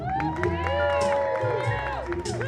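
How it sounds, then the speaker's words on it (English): An outdoor street-show crowd at Disney World cheers, whoops and claps in a loud, close burst of excited voices over scattered applause. "If you think Paul should pick Bachelorette number 1, applaud right now!"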